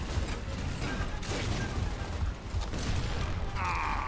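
Weapon reload in the shooter Gears of War: Ultimate Edition, a quick series of metallic clicks and clanks over game background noise, with a brief louder mechanical rattle near the end.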